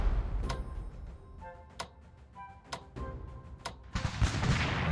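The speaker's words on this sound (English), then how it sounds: "we'll bombard them now" Artillery bombardment in Strategic Command: Franco-Prussian War, a strategy game set during the fall of France, comes as several sharp, separate booming shots spaced about a second apart, then a rumbling burst of impacts at the end.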